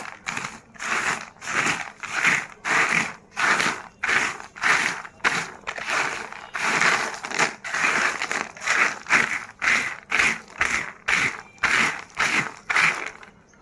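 Roasted peanuts rubbed between the hands to strip their skins, a brisk rhythmic rasping of dry husks in regular strokes, about two per second, close and alone.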